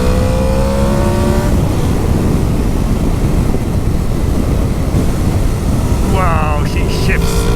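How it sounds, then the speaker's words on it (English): Honda VFR 800 VTEC motorcycle ridden on country roads near Charlbury, engine revving loud and close with rising gear-change whines, a steady roaring stretch, then another climbing rev sweep, all under heavy wind buffeting on the microphone. "it just roars. The change in engine note is just beautiful."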